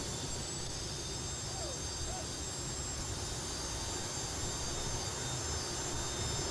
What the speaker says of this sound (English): building the heat back in the engines of those T55 Lycoming turbines